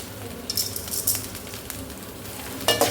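Bitter gourd (pavakkai) frying in hot oil for a Tamil puli kulambu, a steady soft sizzle broken by a few sharper crackles and spoon-against-pan clinks, no talking.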